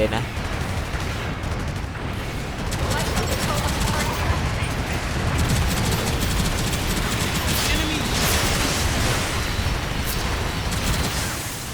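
Cannon blasts and gunfire from a Gundam mecha video game, a dense, continuous barrage of booming shots and rattling fire throughout, loud and steady with voices briefly over it.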